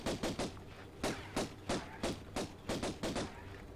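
Gunfire from Pierre in the Tomb Raider video game, a rapid series of about a dozen sharp pistol shots in quick pairs and singles, loud and close with no talking.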